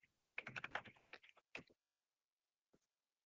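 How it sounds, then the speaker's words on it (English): Keystrokes on a computer keyboard, a quick run of close, crisp taps for about a second and a half, then a short burst and one last isolated click after a pause. "I'm going to simply type in"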